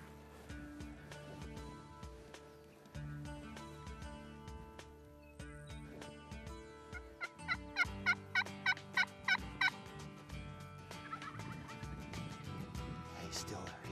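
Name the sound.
Merriam's wild turkey gobbling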